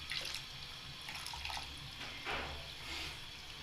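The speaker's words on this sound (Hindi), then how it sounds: "पानी थोड़ा सा और डाल देते हैं ताकि ये खुश्क भी हो जाए।" Water poured into a pot of cooking shahi kofta, a faint, continuous splashing trickle with soft bubbly swells, heard alone at low volume.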